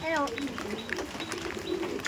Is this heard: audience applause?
no